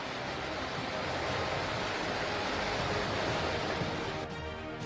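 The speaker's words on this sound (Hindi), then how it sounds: "नदियों में उफान है और उफनती नदियों का पानी रिहायशी इलाकों में भर चुका है।" Floodwater from overflowing rivers in northeast India surges through flooded residential streets, a steady, dense roar of rushing water that holds at an even level throughout, with no voices.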